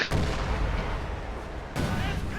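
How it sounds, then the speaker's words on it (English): Bulldozer unit lobbing artillery shots over a cliff in a World War II strategy game, with dense booming blasts rumbling continuously close by and a fresh volley surging in near the end. "Bulldozer firing over the cliff right there."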